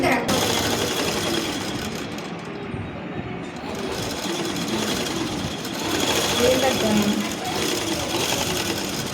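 A sewing machine stitches a zip into a frock, its steady rapid whirring running in bursts as people talk over it.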